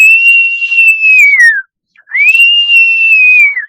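A person imitates the call of a male blue-footed booby with two long, loud, sharp whistles, each held steady then sliding downward at the end, separated by a short pause.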